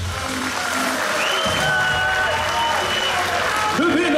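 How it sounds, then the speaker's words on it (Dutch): Crowd applause and cheering for two boxers at a fight event, loud and continuous throughout, with an announcer's voice and tonal sounds running over the noise. "mag ik een applaus voor deze twee jongens"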